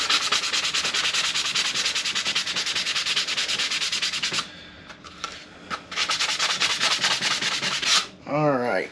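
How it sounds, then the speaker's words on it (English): Someone scuffs the surface of a subwoofer dust cap with rapid, rhythmic rasping strokes, close and steady, broken by a short pause midway before the rubbing resumes. "So what I like to do is take and scuff this up."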